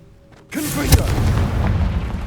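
Confringo blasting spell detonating in Hogwarts Legacy: a sudden loud boom that hits at once, then a long rumbling, crackling tail of debris that stays loud to the end, with no voices.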